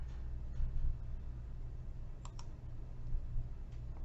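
Two quick computer mouse clicks, close and crisp, sound over a quiet low hum while a part is set up in CAM software.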